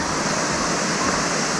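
Steady, loud roar of a waterfall in El Retiro, Antioquia, Colombia, with broadband rushing water filling the whole clip close by and no pauses.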